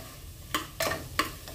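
Potatoes frying in spiced masala with kasuri methi, three short bursts of stirring and scraping over a low steady sizzle in a pan.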